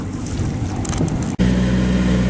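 A steady low sailboat engine drone runs throughout at sea, with water and wind noise; a brief dropout near the middle before the rumble resumes.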